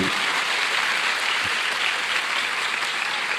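An audience at an Islamic boarding school talk breaks into sustained, even applause that fills the room from start to finish with no speech over it.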